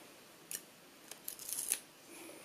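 Scissors cut foam tape in a quiet, close series of snips: a single cut, a pause, then a quick run of several crisp snips before fading to a faint rustle.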